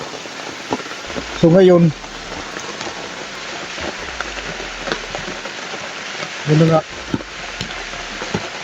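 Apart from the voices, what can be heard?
heavy rain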